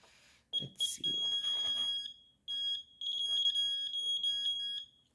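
A function generator gives high, steady electronic beeps in long sustained tones with short gaps between them, fairly clear against a quiet background.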